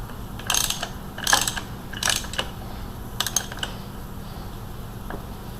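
A ratchet drives the crank bolt into a Ford 302 5.0 V8 during timing cover and water pump installation, giving several short bursts of rapid metallic clicking with pauses between them, close by over a steady low hum, with no talking.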